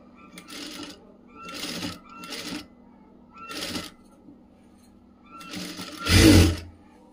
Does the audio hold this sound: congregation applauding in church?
no